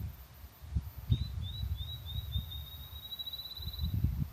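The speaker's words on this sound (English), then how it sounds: "Field sparrow" A field sparrow in an Illinois grassland sings a thin, high series of whistled notes that speed up like a bouncing ball, faint and distant over low wind rumble.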